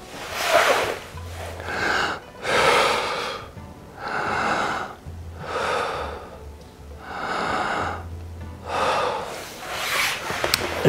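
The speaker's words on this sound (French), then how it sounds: "ça peut être ce qu'on appelle une respiration thoracique. C'est ma cage thoracique qui se gonfle." A person demonstrating thoracic breathing, the rib cage expanding on each breath: about six slow, loud, close breaths in a steady rhythm of audible inhales and exhales, with no talk.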